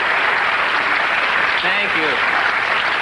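Studio audience applause at a comedy talk show, a steady dense wash of clapping filling the whole stretch while a voice speaks briefly over it.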